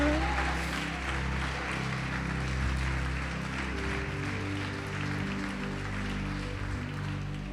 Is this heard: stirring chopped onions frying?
no